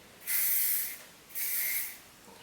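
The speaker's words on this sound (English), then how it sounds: "hairspray it." Hairspray hisses from an aerosol can in two short, close bursts, each lasting about half a second, with a brief pause between them.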